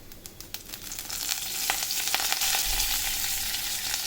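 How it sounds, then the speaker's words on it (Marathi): Curry leaves dropped into hot oil with fried urad dal for rava upma set off a loud, crackling sizzle, starting with a few sharp pops that swell into steady, close frying. "एक फ्राय करून झाल्यानंतर आपल्याला यामध्ये कढीपत्ता घालायचा"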